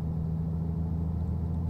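A MAN bus with a 560-horsepower engine in a video game gives off a steady, deep engine rumble with a constant low hum and no talking over it.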